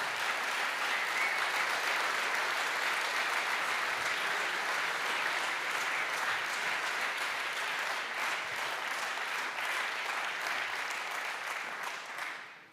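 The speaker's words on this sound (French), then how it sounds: "je vous propose que vous vous applaudissiez tous" An audience at a closing ceremony in Versailles applauds with dense, sustained clapping that holds steady for about twelve seconds before tapering off.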